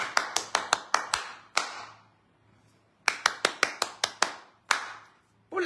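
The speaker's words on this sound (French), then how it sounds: "Applaudissons pour Brice Nietzsche." A small group claps in two short bursts of sharp, distinct hand claps, several in quick succession, separated by a brief quiet gap, close and fairly loud with no talk over them.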